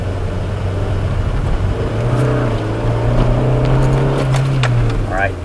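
A Subaru STI on an autocross course, its engine note rising and holding steady as it drives the run, loud and continuous with a voice talking over it.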